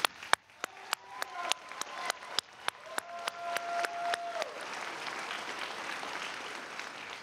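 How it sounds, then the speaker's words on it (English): An audience at a school band Christmas concert applauds young musicians. A few sharp, evenly spaced claps swell into a dense, sustained wash of crowd clapping. "Let's get a big round of applause for them."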